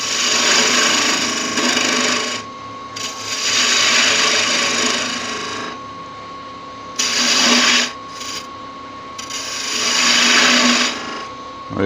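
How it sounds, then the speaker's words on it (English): A detail gouge cuts into wood spinning on a lathe, shaping a small Christmas tree with a star. The loud, steady whirring tool noise swells and eases in long passes, with short pauses between cuts. "we grab a detail gouge and start cutting these out"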